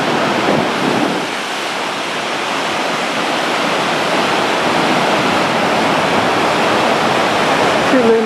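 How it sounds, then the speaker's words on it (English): Atlantic Ocean waves crash over the edge of a park, a loud, sustained roaring wash of surf with a brief voice near the end. "the waves are coming to get us."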